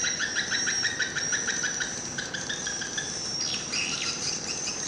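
Swiftlet chirp call recording played at a swiftlet house, rapid rhythmic series of high chirps repeating steadily, fairly loud, with a second chirping pattern joining near the end.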